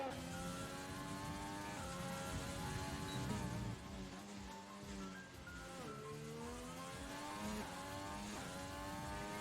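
A race car in a racing video game brakes hard from a straightaway into turn 1, its engine note whining and sliding down in pitch through downshifts, loud and continuous with no talk.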